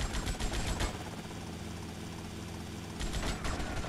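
A helicopter attack in the video game GTA Vice City: rapid bursts of heavy gunfire rattle at the start and end over a continuous loud rotor and engine drone.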